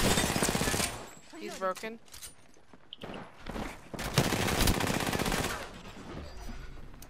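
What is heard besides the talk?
gunfire in a video game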